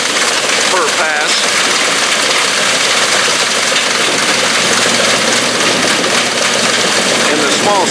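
Allis-Chalmers Gleaner K2 combine harvester with a 10-foot header working a soybean test plot, its engine running loud and steady throughout with a dense mechanical roar and vibration.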